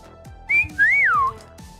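A person whistles a short rising note and then a longer swooping, falling tone, clear and close, over low background chatter and clatter.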